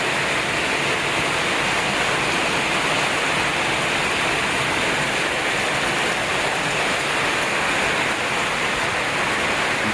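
Rain falls in the mountains in the late afternoon as a dense, even hiss that stays constant and fairly loud for the whole stretch, with no voices.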